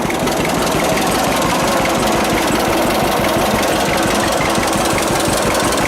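A 1946 John Deere AR tractor engine runs steadily up close, a loud, rough mechanical chugging with a constant low knocking rhythm and no pauses.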